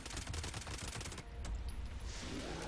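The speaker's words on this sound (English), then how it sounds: "It is but a humble pipe gun" Pipe rifle gunfire in Fallout 76 comes as a rapid string of quick shots that stops partway through, then gives way to faint game ambience, all fairly quiet.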